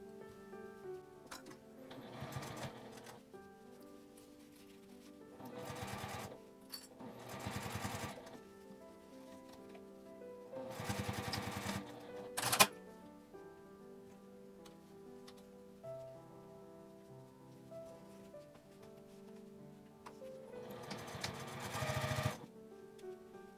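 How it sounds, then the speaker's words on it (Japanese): Sewing machine stitching a zippered accordion coin purse, running in several short bursts of fast, even needle ticking separated by quiet pauses, with soft music playing underneath. "真ん中はちょっとずれやすいのでクリップで留めて縫います。"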